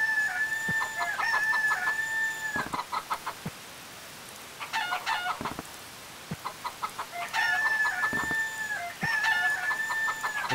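Chickens in the Harvest Moon Save the Homeland video game cluck in short bursts alongside a rooster's crowing, repeating in a looping pattern with brief quieter gaps between.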